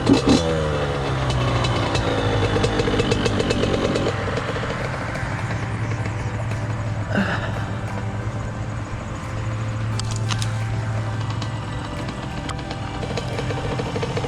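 A Honda CR85 two-stroke dirt bike engine running close by, with a blip of revs at the start settling into a steady buzzing idle and a brief rev partway through, loud and continuous.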